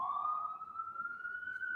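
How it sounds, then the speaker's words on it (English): A police siren wails steadily with a slowly rising pitch, carrying loud and continuous through the city during a baseball broadcast. "It's helicopters and sirens back and forth."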